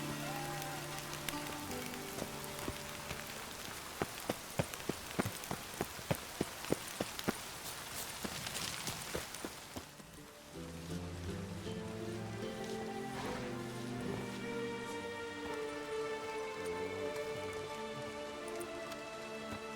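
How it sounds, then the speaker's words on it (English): Steady rain in The Witcher 3: Wild Hunt patters on a hard surface, with a run of sharp drip taps early on, then a continuous wash under faint tonal music. "I like rain. Keeps the rogues indoors."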